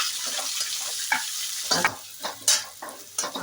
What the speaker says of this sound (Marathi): आता कांदा टाकणार आहे.